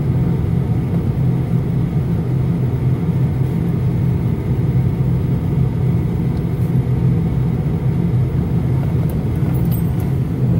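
A big old diesel car engine drones steadily during a driving lesson, a continuous low rumble held at an even, loud level throughout with no voices.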